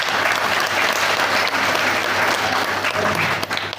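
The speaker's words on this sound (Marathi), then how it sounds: "टाळ्या वाजवा तिच्यासाठी." An audience applauds at a talk, a dense, steady burst of clapping from many hands that fills the room and fades slightly at the end.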